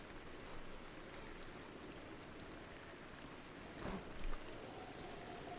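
Rain falls in the Legend of Zelda: Breath of the Wild game as a soft, steady wash of hissing noise, with one brief dull thump partway through.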